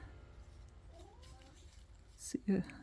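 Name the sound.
cat meowing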